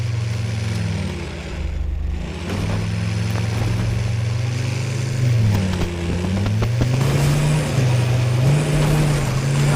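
Cars in the video game Fortnite drive with a steady low engine drone that rises and falls as they accelerate, loud and continuous throughout.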